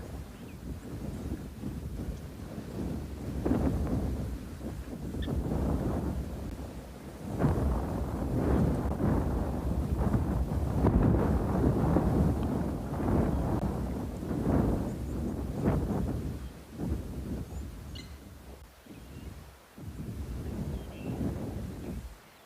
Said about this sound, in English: let's have a listen to that storm coming in while we watch